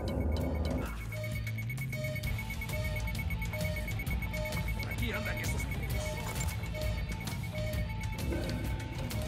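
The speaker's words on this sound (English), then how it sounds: "Your hack has triggered an alarm." A hack in Ghost Recon Wildlands sets off an alarm that beeps at a steady, evenly spaced rhythm over a constant high tone and loud, busy game ambience.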